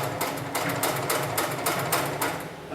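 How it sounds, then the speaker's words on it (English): An industrial sewing machine stitching safety harness webbing, running in quick rapid bursts of rhythmic needle clatter with brief pauses between runs, close and fairly loud with no talk. "set my foot back down and continue sewing"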